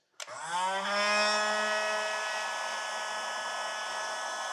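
A heat gun blowing hot air onto a heat shrink butt splice on winch control box wiring, starting abruptly with a click and then a steady, loud whirring blast that holds without pause.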